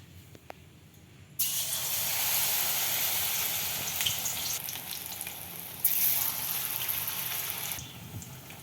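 A loud, steady sizzle of besan-battered pumpkin flowers deep frying in hot oil starts suddenly and continues, with brief swells of crackling, no voices.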